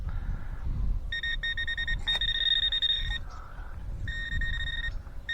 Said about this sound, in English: Probably should hit it with the detector again.